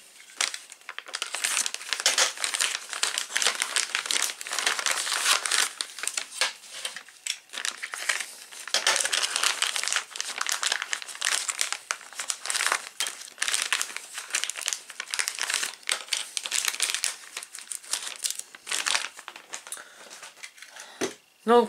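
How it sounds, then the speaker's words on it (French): Parts for a DeLorean model kit, including a dashboard piece, come out of plastic packaging with continuous close crinkling and rustling, loud and busy throughout, with no talk over it. "Je vais les déballer en même temps que vous."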